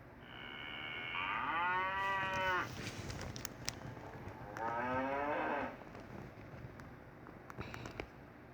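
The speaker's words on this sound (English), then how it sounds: "Cows are black and white. They eat grass and they moo like this." Two long, loud cow moos, each a drawn-out lowing call, sound from a black-and-white cow on a farm, separated by a quiet gap with faint wind and soft background noise.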